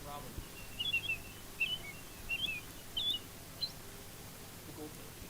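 A person whistles an imitation of an American robin call, a few short bright chirped phrases repeated at a steady pace, clear against a quiet background.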